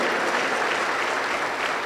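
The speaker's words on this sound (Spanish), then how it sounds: "Hagan palmas contentos para Dios." A church congregation claps together in a continuous, full burst of applause that fills the room, with no clear voices on top.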